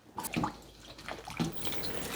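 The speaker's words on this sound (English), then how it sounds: "I'm going to rinse this cabbage in cold water" Cabbage being rinsed in cold water for kimchi, with soft splashing and dripping in a sink, fairly quiet and intermittent, with a couple of brighter splashes.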